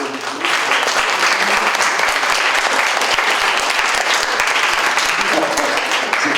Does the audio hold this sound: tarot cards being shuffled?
no